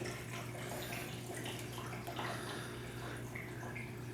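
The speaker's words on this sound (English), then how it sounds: "it'll drain out the remaining water from the return lines up to the point where I put the siphon break holes" A BeanAnimal aquarium drain with siphon break holes empties the last water from its return lines, producing a steady gurgling, splashing flow over a constant low pump hum.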